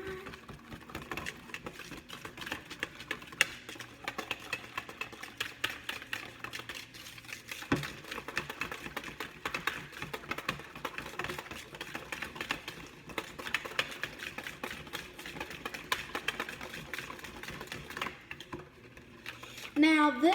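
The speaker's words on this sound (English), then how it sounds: "So we're gonna mix this well. Let me get me a whisk." Rapid, continuous clicking and tapping as a whisk beats glaze ingredients with milk in a bowl, a busy rhythmic patter held steady throughout at moderate loudness.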